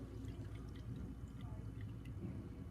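Water poured from a cone into a cylinder in a classroom-style volume demonstration: a steady, close splashing and trickling stream runs throughout with small drips, without any talk.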